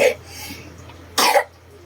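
Two short coughs, one at the start and a louder one just past the middle, with a quiet hum between them.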